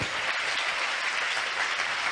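A church congregation claps together during a Spanish-language sermon, a steady wash of dense applause held evenly throughout.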